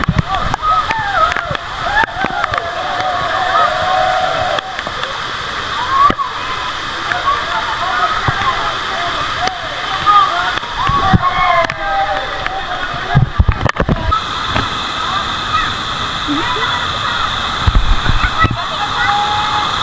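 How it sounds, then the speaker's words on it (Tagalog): A strong river current rushes loudly and continuously, with sloshing and splashing water close by while people call out to each other over the roar. "Baka tangayan kayo ha, malakas yung agos."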